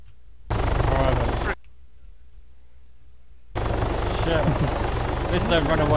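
Helicopter in the military game Arma 3, a loud low rotor thrum that cuts in, drops out, then returns, with rapid crackling like gunfire layered over it and voices talking in the background.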